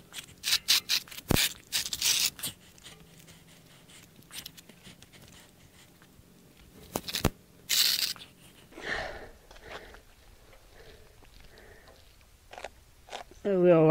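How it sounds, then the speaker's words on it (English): A steel axle slides over OSB board during log deck assembly, heard as a few scraping, rubbing bursts that come and go, with a person talking in between. "All right, ready to slide the axle in place. And I put some OSB board under it just so it'll slide better."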